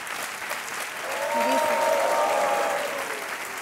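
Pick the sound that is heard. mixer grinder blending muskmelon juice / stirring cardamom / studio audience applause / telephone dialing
studio audience applause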